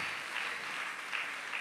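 Audience clapping at a Jain religious gathering, a steady continuous patter of many hands held at an even level throughout, with no voices on top.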